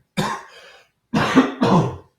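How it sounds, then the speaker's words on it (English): An ailing older man's hoarse coughing, one short rough burst followed after a pause by two quick close harsh coughs, near and fairly loud with silence between. "Still coughing"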